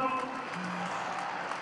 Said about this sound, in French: Est-ce qu'on peut applaudir pour le Burkina Faso?